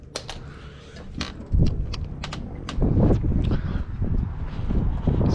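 Strong outdoor wind buffets the microphone with low, rumbling gusts that swell and grow heavier partway through, along with a few faint clicks.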